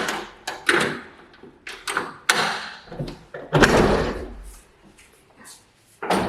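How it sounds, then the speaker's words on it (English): An apartment door is opened in a small room, giving a scattered series of knocks, thumps and a longer scraping swing, close and moderately loud with quiet gaps between. "when we open this door right here"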